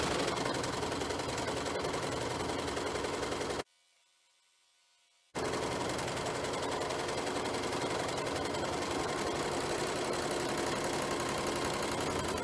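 Serger sewing a strip of fabric, a fast steady mechanical whir that runs, stops abruptly into near silence for about two seconds, then resumes at the same close, even pace.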